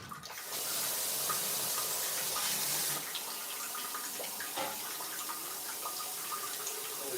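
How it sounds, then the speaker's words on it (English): Tap water runs into a container for refilling, a loud rushing stream for a few seconds that then drops to a softer trickle with small splashes as it fills. "Now I'm gonna start refilling this too"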